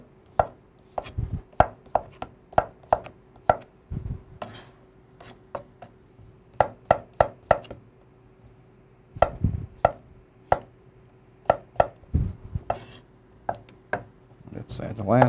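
A knife cutting potatoes on a cutting board for German potato salad, sharp irregular chops landing in quick clusters with short pauses between them.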